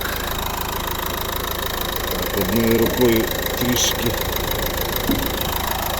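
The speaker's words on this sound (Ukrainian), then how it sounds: "Подивимося під капотом роботу двигуна." A 1.5 dCi diesel engine in a 2011 Nissan Qashqai idles with a steady rumble and faint knocking, heard under the bonnet, while a person speaks briefly over it.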